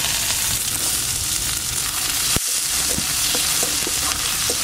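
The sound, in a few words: whole spices and chopped onion frying in oil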